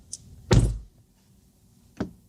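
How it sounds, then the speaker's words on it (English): A Tesla car door closes with a solid thunk, preceded by a faint click and followed a moment later by a second shorter knock, close by in a quiet interior. "So I'll close my door."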